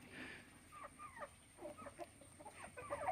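Chickens at an aquaponics fish-pond farm cluck softly in short, scattered calls, faint and somewhat distant, with no talking.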